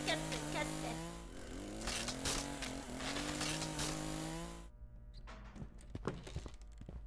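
Chainsaw revving loudly in the horror game Escape the Backrooms, a harsh buzzing engine snarl with rising and falling pitch that cuts off abruptly, followed by scattered clunks and knocks.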